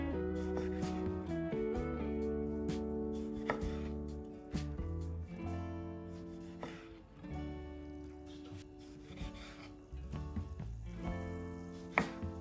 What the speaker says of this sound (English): Cut 8-12 cherry tomatoes in a half.